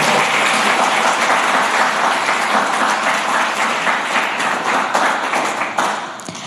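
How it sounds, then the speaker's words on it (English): Audience at a London celebration event applauding steadily, a dense wash of many hands clapping that holds strong for several seconds before tapering slightly at the end. "Clapping for that."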